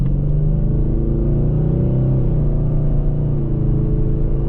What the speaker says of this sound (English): this EcoBoost gets up and dances going down the road